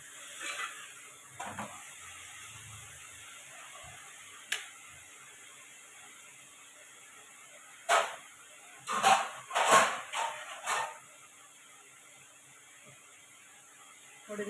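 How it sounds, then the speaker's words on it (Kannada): Onions frying with ginger garlic paste for bisibelebath hiss softly in a pan while a spoon scrapes and stirs in a cluster of clinks, then a quieter steady sizzle. "ನಾನು ಇದಕ್ಕೆ ಜಿಂಜರ್ ಗಾರ್ಲಿಕ್ ಪೇಸ್ಟ್ ಹಾಕ್ಕೊಂಡ್ಬಿಟ್ಟು ಚೆನ್ನಾಗಿ ತೊಳಸ್ಕೊತೀನಿ."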